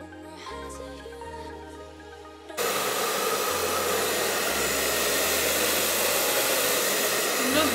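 A hair dryer switches on and blows steadily onto the lace edges of a wig, a loud constant whoosh that takes over from a quieter passage and holds to the end.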